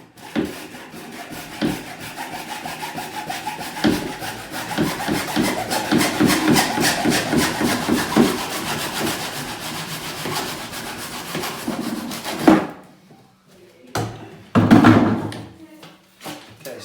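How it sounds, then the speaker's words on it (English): A hacksaw cuts through an inner flue pipe with steady back-and-forth rasping strokes, loud and close, for about twelve seconds, then stops and leaves a few scattered knocks and scrapes. "now with our hacksaw we can cut the inner flue off"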